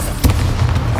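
A Bombarda blasting spell explodes in the Hogwarts Legacy video game: a single sharp, loud boom bursts out early, followed by a brief rumbling tail.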